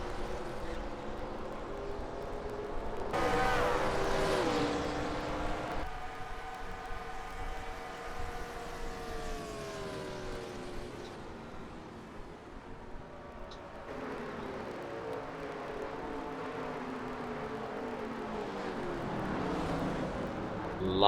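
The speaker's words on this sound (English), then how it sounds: "Chris Mack up behind that 35 car in the draft" Stock cars racing at Portland in a Grand National Series event, engines droning and sweeping in pitch as cars pass, with a loud roar surging in and fading, a commentator talking over the continuous racing noise.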